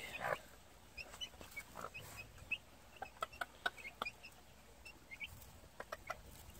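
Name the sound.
gamefowl chicks and hen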